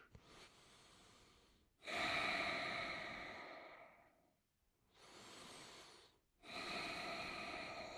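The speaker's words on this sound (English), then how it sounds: "Keep breathing." Steady breathing during a stretching exercise: slow, close inhales and exhales in clear, separate rounds, with short pauses between breaths.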